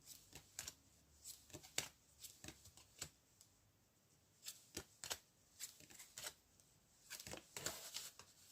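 Tarot cards are shuffled for a reading in soft, quiet riffling bursts that repeat at an uneven rhythm, close up and with no talk.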